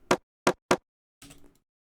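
Three sharp, punchy drill-style percussive hits in a syncopated pattern, followed by a short rattling burst, with silence between.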